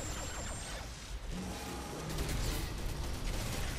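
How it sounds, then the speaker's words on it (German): Gunfire in the video game Crysis 3, a continuous dense wash of shots and rumbling battle noise that grows slightly louder toward the end, with no speech. "Und ich höre überall Schüsse."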